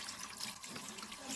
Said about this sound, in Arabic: افتح بقى عليه مية